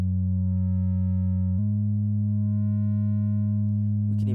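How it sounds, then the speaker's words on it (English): Sustained synthesizer pad built in Reaktor with an LFO sweeping the filter cutoff, a steady droning chord that shifts pitch once partway through, ending with a brief burst of higher tones. "Give us more of a pad movement and some pad sound."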